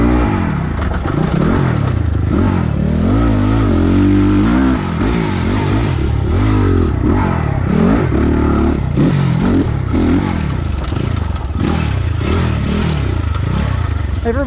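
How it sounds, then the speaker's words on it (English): A heavy 2022 SSR SR300 Chinese dirt bike engine revs repeatedly with the clutch pulled in, loud and close, its pitch climbing and dropping in quick bursts over a steady idle rumble. "I rev my bike when I have the clutch in"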